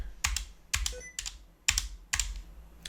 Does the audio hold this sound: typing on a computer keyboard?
yes